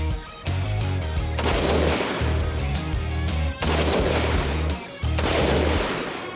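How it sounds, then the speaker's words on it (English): Shots from a homemade build-box gun ring out in a short outdoor string, each a loud sharp report with a booming tail, the sound nearly continuous across the clip with brief gaps. "When they shot Bradley's gun, I felt pretty good"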